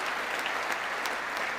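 Applause in the chamber during a State of the Union address, a thick steady roar of many hands clapping, with sharper individual claps standing out now and then.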